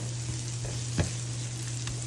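Shrimp sizzle steadily in a hot pan over turned-down heat, a soft continuous frying hiss with a brief louder crackle midway, no voices.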